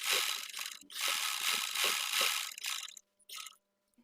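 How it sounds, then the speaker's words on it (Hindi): A sewing machine stitches pintucks into fabric, running in loud, rapid mechanical bursts with brief pauses between runs. "फिर आपने इस तय के साथ साथ एक पैर की सिलाई लगा लें।"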